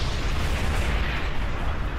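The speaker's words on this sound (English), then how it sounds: "Everything just exploded." A loud, sustained explosion blast from the video game Bulletstorm, with dense rumbling low end filling the whole two seconds without letup.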